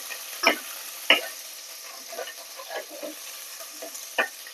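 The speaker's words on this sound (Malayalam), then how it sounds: "ഒരു പച്ചമുളക് ഇട്ടിട്ടുണ്ട് ഒരു ഉള്ളി ഇട്ടിട്ടുണ്ട് നന്നായിട്ട് ഇറക്കി കൊടുക്കാം" Green chili and onion sauté in a pan for tomato rice, a faint background sizzle broken by a few sharp spoon scrapes and taps against the pan, close and unhurried, no voices.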